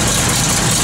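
A 1969 Chevrolet Camaro SS V8 idles steadily at close range, a loud, continuous low rumble with no talk over it.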